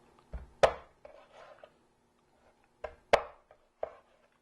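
A sharp knife chopping through a raw chicken back on a cutting board, two heavy thuds roughly 2.5 seconds apart, each followed by softer knocks and scraping, close and clear with no talk.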